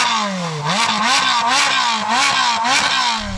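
A Ferrari 458 Speciale with a flat-plane crank V8 revs hard several times, each rise to a shrieking high note dropping back before the next blip, loud and close.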